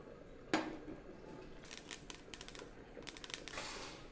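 Black sesame seeds dry-roasted in a hot pan, quiet scattered rattling and scraping with a few sharp clinks of utensil on metal, faint and close.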